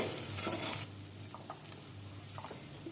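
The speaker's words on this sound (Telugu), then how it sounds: "ఇదంతా ఈ బీన్స్లో కలిసేలాగా బాగా కలుపుకోవాలి." Green beans frying with chili powder in a pan, stirred with a utensil: a steady close sizzle carries brief scraping strokes, louder for the first second and then softer.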